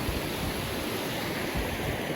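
Continuous rushing water from a river flowing through a remote Yorkshire Dales valley, a steady broadband wash that stays close and fairly loud throughout with no voices.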